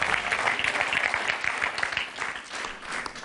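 A live television studio audience applauds for a singer in a dense, sustained wash of clapping that holds steady and then eases slightly toward the end, with no talking.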